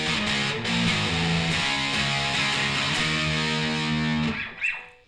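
A distorted electric guitar plays a riff slowly, power chords stepping down to an open low E, loud and close, ending with a brief fade and a string noise.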